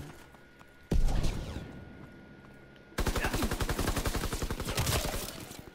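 Weapon gunfire in Call of Duty: WWII starts with a sudden heavy burst. After a brief lull, a long run of rapid automatic fire follows, loud and close, with echoing tails.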